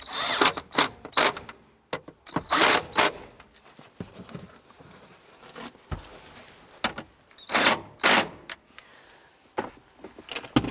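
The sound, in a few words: ratchet tightening bracket bolts on Honda Civic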